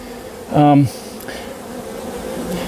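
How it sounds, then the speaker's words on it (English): A short burst of honeybee buzzing from an old nest, rising briefly over a steady low hum, then fading back into the quiet background. "They're nice dark bees, all different colors."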